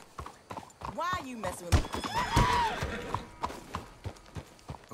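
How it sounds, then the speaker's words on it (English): Horse hooves clip-clop in an irregular rhythm in the Red Dead Redemption 2 video game, heard under someone speaking, with a horse snorting and whinnying nearby. "Let's hitch your horses up ahead."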